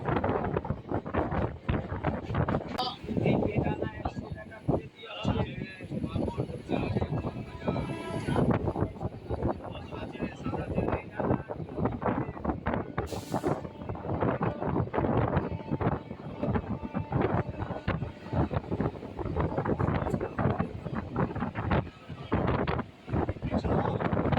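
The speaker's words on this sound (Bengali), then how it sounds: "ট্রেন এখন কোলাঘাট স্টেশন ছেড়ে বেরিয়ে যাচ্ছে" A train pulls out of Kolaghat station in West Bengal, its continuous rumble and clatter loud and close under heavy wind buffeting the microphone, with a brief high squeal near the middle.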